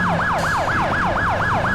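Police car siren in GTA IV wailing in a steady, repeating rise-and-fall cycle, loud and close, with a low engine hum beneath and no talking.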